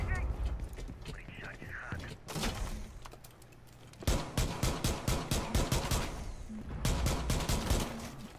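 Bursts of gunfire from the Rainbow Six Siege video game, a few scattered shots early then rapid clustered volleys through the second half, loud and close, with a voice talking quietly between shots.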